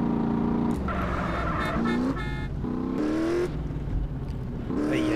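A car engine in Grand Theft Auto: San Andreas revs and shifts repeatedly, rising tones climbing and dropping in several surges, loud and close, with a brief horn-like toot.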